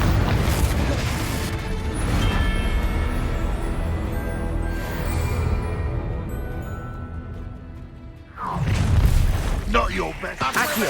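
Confringo fire spells from Hogwarts Legacy go off in a string of booming blasts and thuds amid battle noise, with a short lull before a final loud burst, and a voice talks over much of it.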